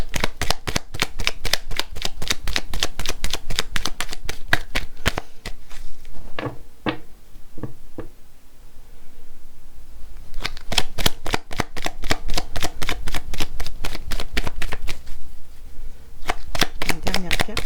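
Tarot cards being shuffled in repeated crisp riffling bursts, with a quieter pause in the middle where a voice talks, then the close card shuffling resumes loudly.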